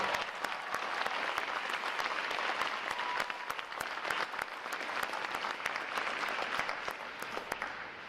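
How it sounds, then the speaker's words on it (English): Sustained, loud applause from a large audience at a U.S. Navy Recruit Training Command boot camp graduation, dense clapping filling the whole stretch without a break. "So a round of applause for our family and friends."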